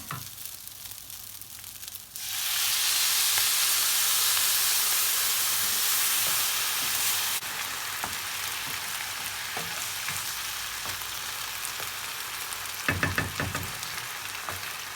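Water hits the roasted vine-leaf stuffing filling in a hot pan, setting off a sudden loud hissing sizzle that holds for several seconds, then eases into steady softer bubbling with a few clatters near the end.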